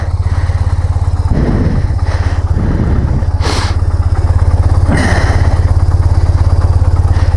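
A parked dirt-caked, well-used motorcycle idles loudly and steadily close by, its engine thrumming evenly with a few brief clatters on top.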